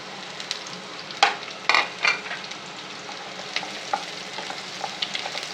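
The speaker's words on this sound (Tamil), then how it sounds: "இது கொஞ்சம் நேரம் எண்ணெயில் இப்படி நல்லா வதக்கிக்கோங்க" Chopped shallots and green chilies fry in hot oil in a pan for a ridge gourd and egg stir-fry, giving a steady close sizzle broken by a few louder stirring scrapes. No one talks.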